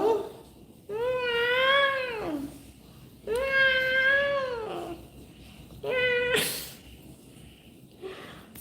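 A cat in a cat hotel gives three loud, drawn-out meows close by, each about a second long, with short quiet gaps between them and a brief knock near the end.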